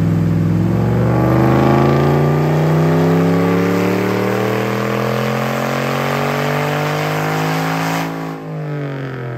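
A 600+ HP Hemi-powered Jeep running hard on a dyno, its loud engine note holding a steady, throaty roar with harmonics slowly rising before easing off near the end.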